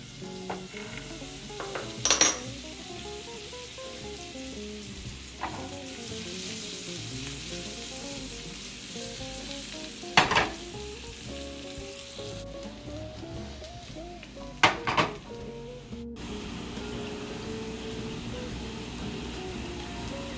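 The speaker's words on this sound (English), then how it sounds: "Shake the pan back and forth so the butter evens out." Butter sizzles steadily in a pan for about twenty seconds, a constant hiss broken by a few louder scraping clatters as the pan is shaken back and forth on the stove.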